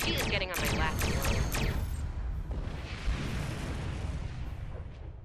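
Starship cannons fire in the Star Trek Online space game, a rapid volley of booming blasts followed by a rolling explosive rumble that fades away.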